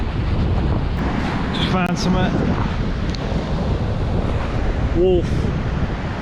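Strong wind buffets the microphone continuously on Charmouth beach, a broad roaring rush with surf beneath it, while a person speaks briefly over it.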